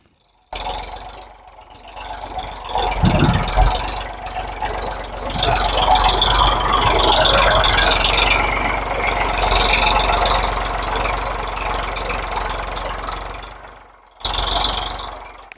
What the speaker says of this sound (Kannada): ಟ್ಯಾಕ್ಟರ್ ಉಳುಮೆ ಮಾಡುವುದು ಈ ಥರ